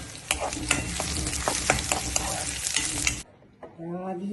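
Curry leaves, shallots and red chillies tempering in hot oil, loud crackling sizzle with stirring scrapes for about three seconds, then the frying drops to a faint hiss.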